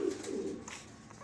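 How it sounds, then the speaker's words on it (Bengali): A white Sirazi pigeon gives a soft, low coo near the start, followed by faint fluttering and rustling in a quiet space. "কবুতরটি খুব ছটফট করতেছে বের হয়ে যাওয়ার জন্য"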